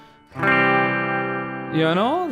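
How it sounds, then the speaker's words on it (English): A clean electric guitar chord rings out sustained and bright, then bends and wavers near the end, played alone without talk. "And clean sounds like something like this."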